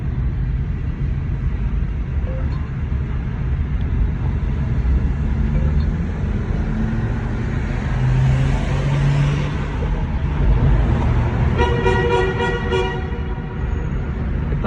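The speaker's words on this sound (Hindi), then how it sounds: "इतना मज़ा आता है नीचे हॉर्न बजाते हुए वाले" A loud, busy road rumbles throughout, with a series of rapid horn toots near the end over heavy traffic noise.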